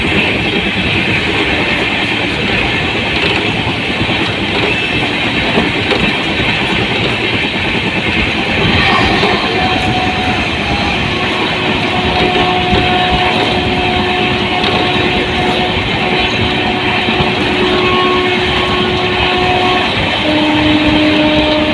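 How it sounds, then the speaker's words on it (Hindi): A Vande Bharat Express train pulls into a station platform with a loud, continuous rumble and rolling rail noise that holds steady throughout, with faint tonal whines rising near the end. "Patna Gomti Nagar Vande Bharat express platform number 8 पर आ रही है।"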